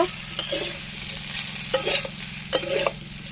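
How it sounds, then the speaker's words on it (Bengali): A spoon stirs turmeric, chilli and coriander powder into a bean curry in a pan, three brief scraping bursts over a steady low sizzle, close and alone with no voices. "মশলাটা ভালো করে মিশিয়ে নেব"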